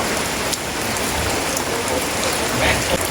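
Steady rain falls close by, a dense constant hiss of drops hitting the ground and nearby surfaces, with no voices over it.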